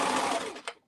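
Close, steady whir of a sewing machine running along the side seam of a sweater, with a short final clack before it stops.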